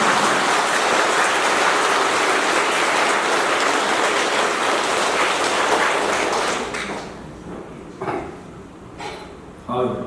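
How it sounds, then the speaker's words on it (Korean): Congregation applauding in a Catholic church during Mass, dense sustained clapping that fades after about seven seconds into scattered claps and murmuring voices. "환영한다고 박수 한번 치면 안 돼요"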